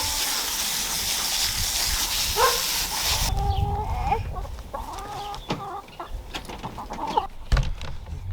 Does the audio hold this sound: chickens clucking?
yes